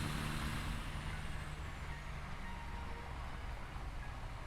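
Truck in the game Satisfactory, a steady broadband engine and road rumble that holds at an even, moderate level throughout with no breaks or distinct events.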